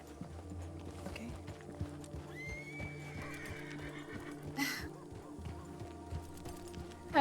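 A horse in Red Dead Redemption 2 lets out a clear whinny amid steady clip-clopping hooves, with a brief splash of noise and faint background sounds, close and moderately loud.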